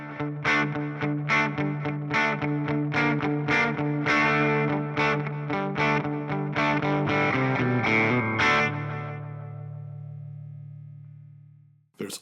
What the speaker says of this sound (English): Now here's the stereo space delay